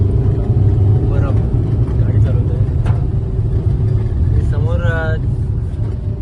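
Cabbin drone of a Maruti Eeco van on the road to Shivneri fort near Junnar, Pune, heard from inside as a loud steady low engine and road rumble, with people talking faintly over it.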